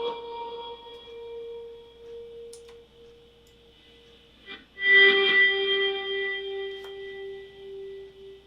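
Two sustained electric guitar notes run through Guitar Rig fuzz and reverse effects swell into a washed-out, ambient tone, with a louder reversed bloom midway that fades slowly.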